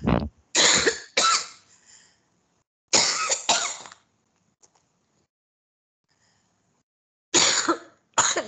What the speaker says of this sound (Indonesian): Saya udah batuk.